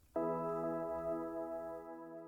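A synth pad from Serum in an emotional progressive house track, holding a single chord that swells in sharply and sustains evenly, rich and warm, then slowly fades.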